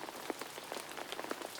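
Rain falling outside, a soft, quiet patter of scattered drops tapping irregularly on a surface, faint and steady with no voices.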